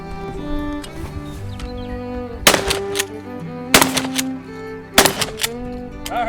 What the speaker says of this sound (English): What do you think of that recoil?